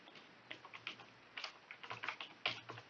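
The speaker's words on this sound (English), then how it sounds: "by typing the command" A computer keyboard is typed on in quick irregular bursts of soft clicks, faint and close, with no other sound.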